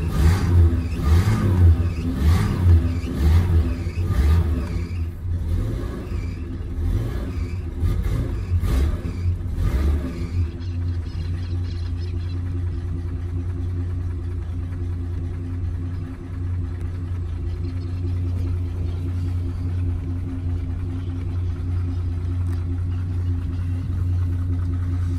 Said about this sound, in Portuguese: Molecada que nunca usou carro a carburador não sabe o que é esquentar o carro